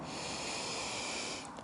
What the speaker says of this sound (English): Take a full breath in